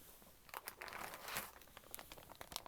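A plastic bag holding a stack of business cards crinkles and rustles in short, soft bursts close by, with scattered crisp crackles and no voices.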